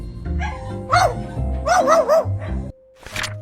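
A pet bird named Molly, living alongside a dog named Peggy, mimics a dog's bark with a few loud, close, tonal barking calls spread over a few seconds, with no talk.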